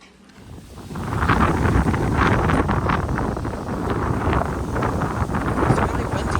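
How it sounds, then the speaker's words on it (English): Strong wind buffets the microphone at a warm, blue-water beach in Turks and Caicos, a loud, steady roar that builds over the first second and then holds with gusty surges; no speech is heard. "It's really windy today, but it's still warm."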